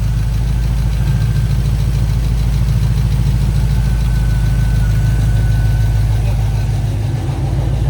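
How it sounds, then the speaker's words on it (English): A Pontiac GTO engine idling steadily up close, not yet warmed up, with a constant low rumble and a fast, even lifter ticking rhythm running through it as the lifters quiet down. "yeah, those lifters are quieting down"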